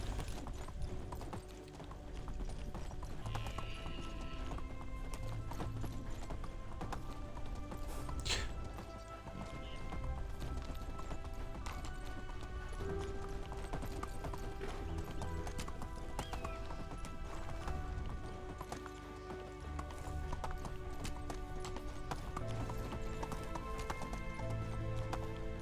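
Horse hooves clip-clop steadily at a trot while riding in the Medieval Dynasty video game, a continuous rhythmic pattern over a dense game soundscape with an occasional whinny.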